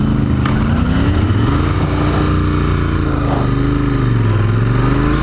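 A Royal Enfield Continental GT 650 motorcycle engine running steadily up close during a test ride, with a continuous loud drone whose pitch rises and falls as the rider works the throttle.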